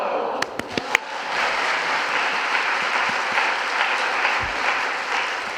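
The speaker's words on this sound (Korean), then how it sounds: "우리 큰 박수로 올려드리도록 하겠습니다" A church congregation at a 30th-anniversary revival service bursts into loud, sustained applause with a few sharp cracks at the start, filling the hall with a dense, continuous wash of clapping.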